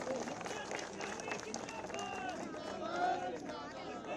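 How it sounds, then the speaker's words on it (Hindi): Large outdoor crowd at a beneficiary felicitation ceremony in Laksar, Haridwar, clapping to welcome the chief minister, a dense continuous roar of applause mixed with crowd murmur and background chatter, fairly distant and steady. "मैं चाहूंगा एक बार जोरदार तालियों के साथ आपका स्वागत करें।"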